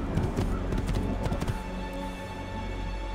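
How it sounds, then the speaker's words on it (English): Rapid rhythmic hoofbeats of a galloping horse in Assassin's Creed II, loud and close, thudding steadily before easing off in the last second. "Like you can slow down your horse, you can make it go faster."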